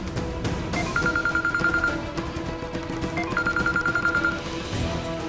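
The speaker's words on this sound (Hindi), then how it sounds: "ले, मेरा ही फोन बज रहा है।" A mobile phone ringing at night in a Hindi TV drama, two bursts of a repeating electronic trill over a rhythmic background music track, fairly loud and close.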